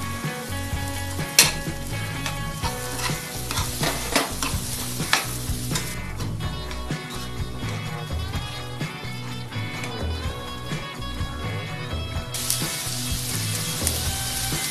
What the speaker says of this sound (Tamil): காய்கறி இந்த மாதிரி வதங்கிட்டு இருக்கும்போதே